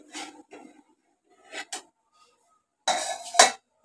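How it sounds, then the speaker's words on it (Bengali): A metal lid lifted off a pot of just-boiled rice in a home kitchen, giving a few short clanks and scrapes, with one brief clatter early on and a louder clanging rattle near the end. "ঢাকনাটা খুলে দিই।"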